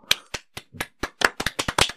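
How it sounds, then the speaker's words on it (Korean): A short applause sound effect: around a dozen crisp, distinct hand claps in quick, slightly irregular succession, close and dry, quickening toward the end. "박수."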